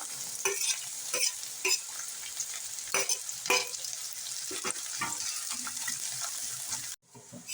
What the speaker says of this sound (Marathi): आता याच तेलामध्ये आपण कांदा टाकूया कांदा छान परतून घेऊया